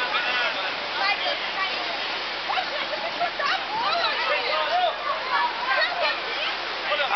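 Water thrown and splashing steadily across a soapy football pitch during a match in Guarapari, a continuous rushing wash with shouting players over it.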